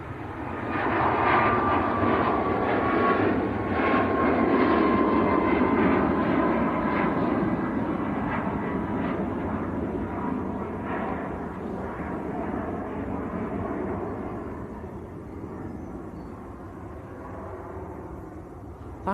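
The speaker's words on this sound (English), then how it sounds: "TAP, TAP, Transair Portugal, taxiing out." A TAP Air Portugal airliner taxis at Manchester Airport with a loud, sustained jet engine roar that swells early on and then slowly fades as it moves away.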